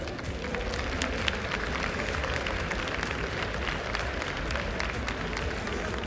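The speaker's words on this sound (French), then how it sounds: "Je vous demande d'applaudir l'équipe de Riot." Audience applause at Paris Games Week for a game studio team, a steady dense wash of clapping and crowd noise sustained at even loudness throughout.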